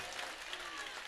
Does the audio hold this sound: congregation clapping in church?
yes